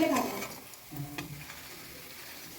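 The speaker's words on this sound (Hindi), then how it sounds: "तेल तो गरम था ही, उसमें हमने जीरा डाल दिया है, हींग डाल दिया है" Cumin seeds and asafoetida dropped into hot oil for tempering give a brief sharp sizzle and crackle at first, then settle into a soft, faint frying hiss with light ticks.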